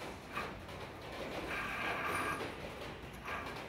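A lead screw nut is turned by hand onto a machined spindle, giving soft, continuous mechanical scraping and faint creaks close by with no talking.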